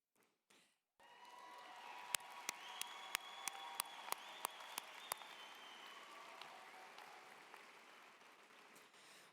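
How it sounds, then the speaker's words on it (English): Applause from a college commencement audience for graduates, starting after a brief pause, with a few sharp, distinct claps standing out near the front over a steady, moderately distant clapping crowd. "These graduates have earned your applause."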